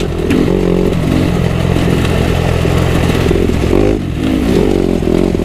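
A Kawasaki KX250 dirt bike engine, being run in, drones loudly and close, its revs rising and dipping unevenly with a buzzing, rattly tone throughout.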